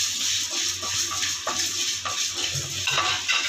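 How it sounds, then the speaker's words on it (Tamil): Whole spices dry roasting in a pan for mandi biryani: soft scraping and clinks of a stirring utensil against the pan over a faint low sizzle, close and fairly quiet, with no talking. "மசாலாவை வறுத்துக்க போகிறோம் இப்போ நம்ம எடுத்து வச்சுருக்கிற மசாலாலாம் கொட்டி இப்போ லைட்டாக வறுத்துக்க போகிறோம்"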